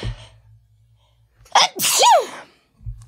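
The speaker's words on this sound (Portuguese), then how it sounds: "Vou espirrar" A single sharp sneeze, preceded by a quick intake of breath, loud and close, with brief quiet before and after.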